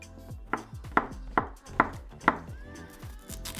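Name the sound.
knife chopping onion and king oyster mushroom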